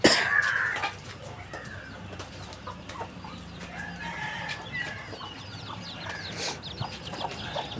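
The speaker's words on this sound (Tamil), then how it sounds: "இதுதான் நாட்டுக்கோழி." Free-range country chickens (nattu kozhi), a hen with chicks, clucking and chirping outdoors at close to mid distance, continuous overlapping calls over a busy rural background with other birds.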